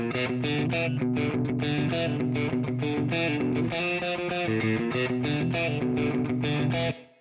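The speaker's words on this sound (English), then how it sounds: "let's check out the intro guitars" A dense rock mix of distorted, chorus-treated intro guitars washed in reverb, playing steady sustained chords and riffs at full level for about seven seconds before cutting off abruptly.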